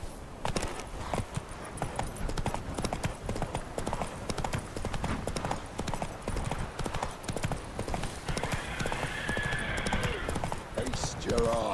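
Horse hooves gallop in a quick steady clip-clop rhythm throughout, a mount ridden across open ground in The Witcher 3, with a voice speaking over the hoofbeats and a brief whinny-like sound near the end.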